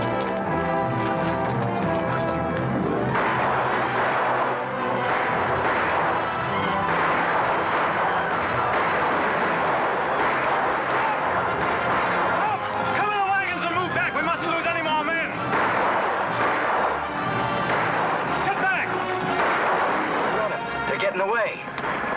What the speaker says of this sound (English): Everybody, take cover and open fire.